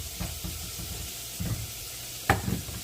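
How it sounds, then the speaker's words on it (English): Chopped onion cooking in a pan for chorizo mac and cheese, giving a quiet, steady sizzle with a few soft stirring knocks and one sharper clack near the end, no voices. "we're going to continue to cook that until the onion is cooked"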